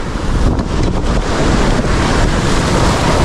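Heavy ocean surf pounds against rocks in a continuous, loud roar of broadband wash, with strong wind buffeting the microphone throughout.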